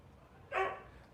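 A single dog bark bursts out at mid-distance, loud and short, standing alone above a quiet background hum.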